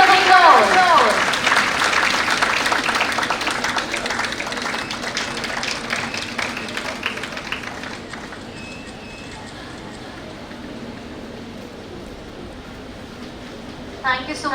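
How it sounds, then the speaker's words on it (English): Audience applause welcoming a guest at a conference during a festival event, dense clapping loud at first, then thinning and fading out over the second half. "Please give us a big round of applause."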